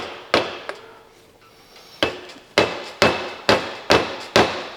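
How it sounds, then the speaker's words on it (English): Repeated sharp hammer blows knocking a shaft out of an old 80-year-old electric motor: one early strike, a pause, then five loud, evenly spaced metallic clanks with ringing decay, close and alone. "let's see if we can't bump it the rest of the way off with the hammer"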